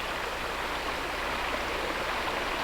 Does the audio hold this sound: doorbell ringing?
no